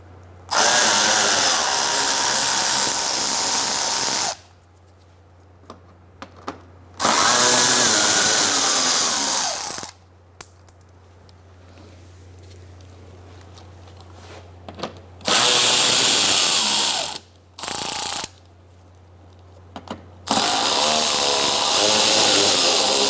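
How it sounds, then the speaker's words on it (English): Splash shield bolts on a 2004-2009 Mazda 3 spun out with an 8 mm socket on a power tool: loud whirring bursts of several seconds each, repeated about five times with pauses between. "Using an 8 millimeter socket, we're going to take out these bolts."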